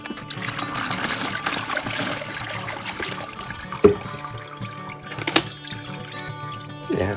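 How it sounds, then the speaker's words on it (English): Mookaite stones are rinsed in water, with trickling, dribbling and swishing of liquid, a few sharp clicks of stone, all close and fairly quiet. "Give it a rinse."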